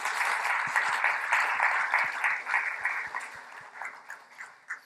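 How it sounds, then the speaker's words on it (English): An audience at a construction industry summit panel claps for the panelists, a moderate, moderately distant patter of many hands that thins out and turns sparse toward the end. "So if we could just give a round of applause to close up for our panelists"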